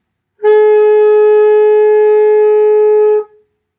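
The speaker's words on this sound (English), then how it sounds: "So play that F with Cam." One long, steady alto saxophone F, bright and reedy, held for nearly three seconds before stopping cleanly.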